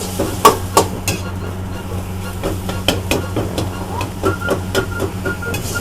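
Minced meat with curry chili paste is stir-fried over medium heat in a pan for a spicy Thai kua kling, giving a steady sizzle with sharp, repeated spatula scrapes and clanks.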